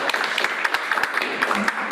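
Applause for a speaker at a cybersecurity talk in a university lecture hall: a modest crowd clapping in quick, uneven bursts, brief and mid-distance, with no voices over it.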